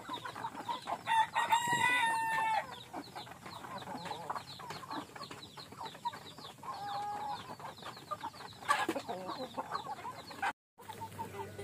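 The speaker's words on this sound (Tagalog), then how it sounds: "napakain tayo ng mga alaga nating manok" Hens cluck steadily while a rooster crows loudly near the start and again midway, with busy farmyard chatter throughout and a brief dropout near the end.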